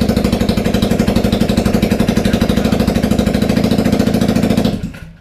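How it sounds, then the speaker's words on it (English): A 2003 Suzuki Burgman 400 scooter engine runs with no muffler fitted, producing a very loud, close, rapid staccato putter with even firing pulses for about five seconds before it cuts off abruptly. "let's get her fired up. We don't have the muffler on, so it's going to be a little loud"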